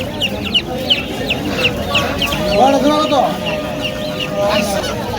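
Chickens cluck and a rooster calls at a bustling Bengali poultry market selling ducks, chickens and pigeons, the birds fairly close and steady under market chatter and nearby voices.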